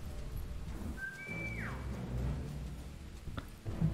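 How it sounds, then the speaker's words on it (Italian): A character's whistle used to lure guards in the WWII stealth game War Mongrels: one short rising-then-falling whistle over low, murky game ambience. "Attira le guardie con un fischietto."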